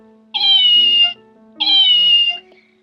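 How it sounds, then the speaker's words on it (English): A decorative toy cat gives two identical electronic meows when pressed, each about three-quarters of a second long, loud and close, with a short pause between. "Cute and interesting when the cat make noise."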